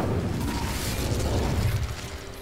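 An Incendio fire spell cast in a video game, a loud roaring burst of fire with crackling and rumbling mechanical texture that fades toward the end.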